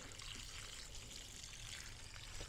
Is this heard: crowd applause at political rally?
no